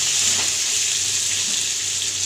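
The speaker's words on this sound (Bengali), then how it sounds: "সেইটা আমি ভাজতে দেবো কিছুক্ষণ" Small whole new potatoes fry in a pan, giving a dense, steady sizzle that stays close and loud throughout, with no talking.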